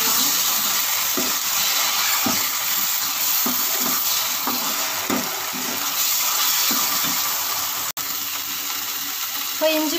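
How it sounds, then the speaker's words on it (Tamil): Ginger garlic paste sautés with onions in a pan, giving a steady sizzle broken by repeated scraping stirs of a spoon, and a soft knock near the end. "இப்போ இஞ்சி பூண்டு பேஸ்ட்டு வதங்கிடுச்சு."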